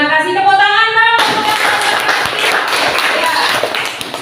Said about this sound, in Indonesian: Tepuk tangan, Bang.